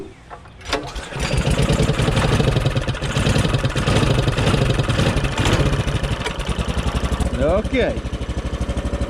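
A 440cc Murray Explorer go kart engine starts up close and loud, then runs with a steady pulsing chug. Someone speaks briefly over it.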